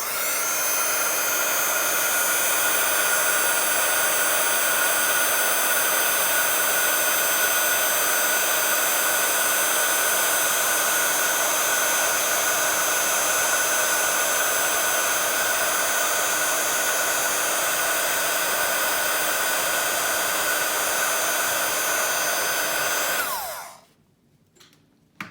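A heat gun heats embossing powder on a rubber stamp, giving a loud, steady blowing hiss that runs unbroken for over twenty seconds before cutting off abruptly.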